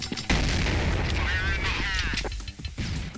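Punchy gunfire from a Counter-Strike remake video game, a dense close burst of shots and booming impacts filling the few seconds.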